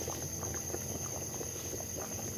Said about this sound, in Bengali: এইরকম সাউন্ড হতে হবে, টকবক টকবক করে আওয়াজ হচ্ছে